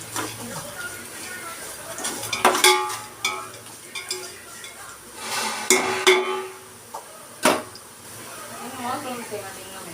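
Onions, dried chillies and curry leaves crackle and sizzle in hot oil, with intermittent stirring clatters against the pan and a voice speaking nearby.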